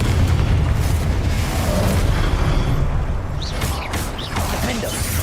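Confringo explosive spell blasts in Hogwarts Legacy, a dense rumbling barrage of booms and crackles with game effects, loud and continuous through the clip.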